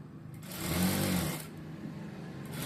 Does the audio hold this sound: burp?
no